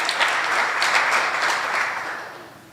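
Audience applause for veterans at the grand opening of a Veterans Affairs office in a senior center, a brief, even round of clapping that holds steady and then fades out near the end.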